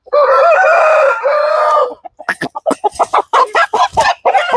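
A fighting rooster gives a loud, close crow lasting about two seconds, then breaks into a rapid series of agitated clucks and squawks as it is handled.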